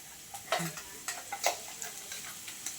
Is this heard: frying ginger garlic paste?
yes